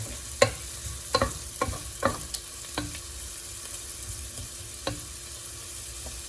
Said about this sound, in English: Saute, saute, saute.